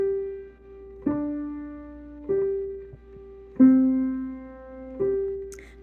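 Piano playing the left-hand part of a song softly, a slow sequence of single sustained notes struck about once a second, each ringing and decaying before the next, alone and close.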